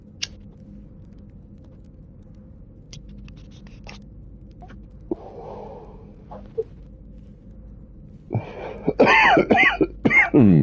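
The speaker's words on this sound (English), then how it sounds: "Excuse me, caught me in a cough." After a long near-silent stretch with a few faint clicks, a person breaks into loud, close coughing and throat clearing, several harsh bursts packed into the final couple of seconds.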